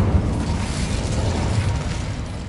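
Incendio fire spell cast in a wizarding video game, a dense, continuous roaring burst of flame with rumbling low end, steady and fairly loud throughout.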